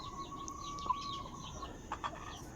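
Backyard chickens cluck softly at feeding time with a few short calls, over a steady low outdoor background.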